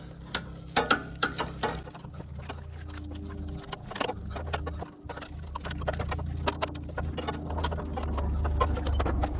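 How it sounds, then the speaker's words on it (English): A ratchet works a 10 millimeter bolt loose on a 2003 Acura RSX Type S, giving close, irregular metallic clicks and clatter, with brief jangling bursts over a steady low background hum. "we're gonna go ahead and take off that 10 millimeter bolt"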